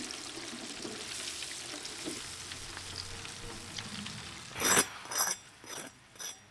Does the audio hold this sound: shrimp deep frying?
yes